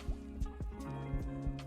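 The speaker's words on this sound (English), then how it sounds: "I can hear my heart beating and I'm not sure why" A heartbeat in the video game Space Station 13 thumps in a steady, low double-pulse rhythm, about five beats in quick succession, faint against a soft background hum.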